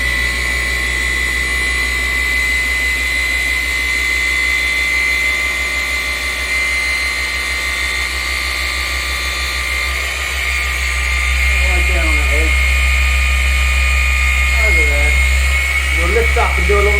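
Machine polisher working Gyeon ceramic primer into car paint, a steady high-pitched motor whine running continuously and loud throughout, with someone talking over it.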